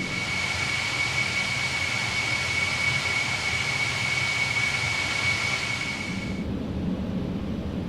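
Concorde jet on final approach in Microsoft Flight Simulator, a loud, steady engine roar with a sustained high whine that cuts off near the end, leaving a lower rumble.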